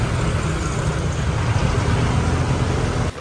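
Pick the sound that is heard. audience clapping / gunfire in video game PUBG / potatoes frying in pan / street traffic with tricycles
street traffic with tricycles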